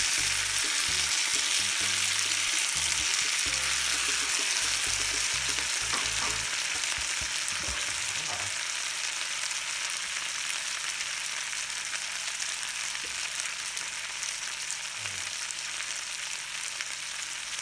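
Bacon and cherry tomatoes frying in a pan give a steady, close sizzle throughout, with brief stirring and utensil scrapes early on before the frying settles into a continuous hiss.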